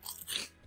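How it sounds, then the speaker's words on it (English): Brief, soft crunching chew from the eating sound effect in the video game Bloxburg, two quick bites in under a second, quiet and alone with no talking. "If you eat food today, it will sound like this."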